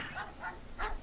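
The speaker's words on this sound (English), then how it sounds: "These dogs will keep on attacking you, so just give them a very good kick, and they'll leave you alone." Dogs in the PlayStation game Megaman Legends bark in the old city, three short sharp yips and barks in quick succession, close and fairly loud against a low game ambience.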